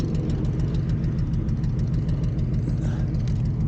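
A Camaro's engine idles steadily after a jump start, a loud, close, continuous low rumble with an even throbbing pulse and no talk over it.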